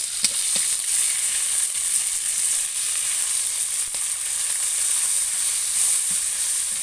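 Fish head frying in hot oil with a tempering of chilli and onion, giving a loud, steady sizzle that carries on without a break throughout, with a few faint stirring clicks.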